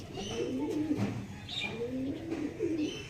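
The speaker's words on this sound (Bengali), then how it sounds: "এই পায়রাটা ফ্লাইং পায়রা মার্ক করা আছে" A Punjabi pigeon coos several times in low, rolling calls while held in the hand, close and clear over faint background noise, with no talk.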